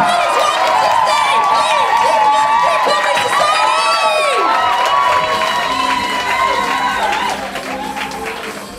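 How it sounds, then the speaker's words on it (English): A student comedy audience at a Leeds University sketch show bursts into loud clapping, cheering and whooping, a dense, energetic roar with shrill shouts that holds steady before easing slightly near the end. "So this side of the room, get clapping and cheering!"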